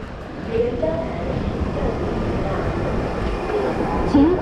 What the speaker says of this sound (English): I think I missed the train